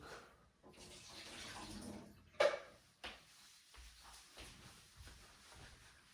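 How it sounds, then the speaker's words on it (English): Water pours and splashes from the emptied water tank of a Coffee B capsule machine, with a sharp clunk of the tank partway through, close up and fairly quiet with no talk. "So right now it's full of water. We're gonna empty it real quick."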